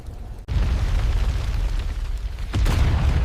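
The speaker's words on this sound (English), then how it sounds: "purple fireballs detonate in a series of violent explosions" Deep, rumbling explosions of purple fireballs roar continuously above the Amazon rainforest canopy, with a sharp new blast cutting in near the start and another heavy boom toward the end.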